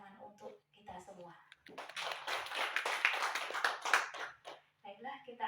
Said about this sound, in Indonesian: Sekali lagi kita tepuk tangan untuk kita semua.